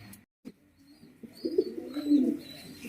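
A male German pigeon coos in a low, throaty rolling call, close and moderately loud, with a few faint higher chirps from other birds nearby.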